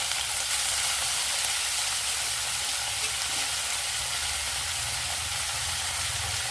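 Tender tamarind leaves fry in a pan over a low flame, giving a steady, even sizzle that holds throughout at close range with no voices.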